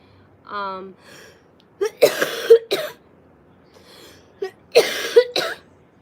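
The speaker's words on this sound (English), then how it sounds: "I have a terrible cough." A voice makes a short tonal sound, then two harsh bursts of coughing follow, each cluster of coughs close and loud with quiet pauses between.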